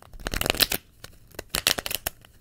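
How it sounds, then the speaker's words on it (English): Tarot cards being shuffled close up in two quick riffling bursts of crisp, rapid flutters, with a short pause between them and no voices. "Let me shuffle really quick."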